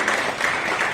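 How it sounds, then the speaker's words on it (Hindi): Applause at a district-level youth conference in Madhepura, Bihar, a dense continuous wash of many hands clapping at steady loudness through the whole brief moment, with no voices over it. "जोरदार तालियों से स्वागत करेंगे।"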